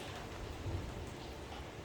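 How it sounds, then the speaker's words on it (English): Steady rain pouring outside during a thunderstorm, a dense constant hiss of falling water with a low rumble of thunder underneath, heard from indoors without any talk. "I hope you guys can hear the storming and the raining."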